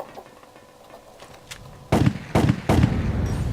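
Gunfire in the online game AQonline: faint shots early, then three loud, close bursts of rapid shooting in quick succession.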